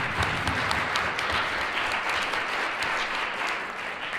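An audience applauding a panel at a mentoring summit, a dense, sustained wash of many hands clapping, steady and fairly loud throughout.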